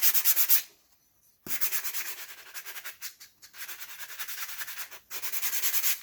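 A finer sanding block rubbed over a child's wooden-handled axe, in quick rhythmic back-and-forth strokes, close and fairly soft, with a couple of short pauses.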